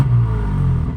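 Deep, loud rumble of a BMW M3 G80 xDrive with downpipe, decat, full exhaust line and tune, valve closed, sounding briefly and close with a low droning engine tone.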